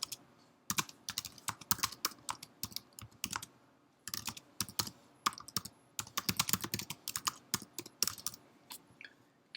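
A computer keyboard being typed on to enter a folder name, with quick bursts of close, crisp key clicks broken by short pauses, and no voices.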